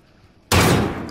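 Gunfire in Call of Duty Modern Warfare, one sudden loud burst that breaks a quiet moment and rings out briefly.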